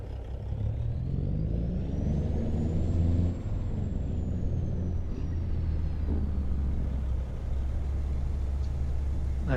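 Dense road traffic with heavy trucks in Farming Simulator 25, a steady loud engine rumble with a rising and falling pitch as a vehicle passes close by, and brief hissing bursts of air brakes.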